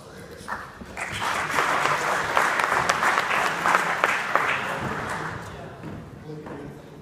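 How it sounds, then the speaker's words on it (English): Audience applause for a presenter at a marketing talk on lidar, a steady dense clapping that swells quickly and holds for several seconds before tapering, with some voices mixed in. "big round of applause for Harris."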